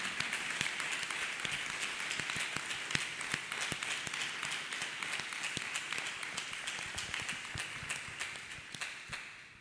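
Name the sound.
congregation clapping hands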